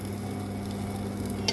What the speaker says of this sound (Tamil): சைடில் பார்த்திங்கன்னா கிரைண்டர் ஓடிட்டுருக்கு.